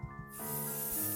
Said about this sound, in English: he doesn't forget to spray alcohol everywhere to disinfect when he's done